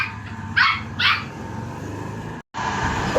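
Two short, sharp yaps from a small Pomeranian ring out close by over a steady background rumble, followed by a brief dropout in the sound.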